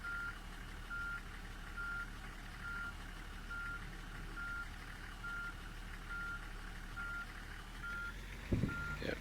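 A bus in Tourist Bus Simulator backs up with a steady series of evenly spaced electronic reversing beeps over a low engine drone, ending in a short thump near the close, with no talk.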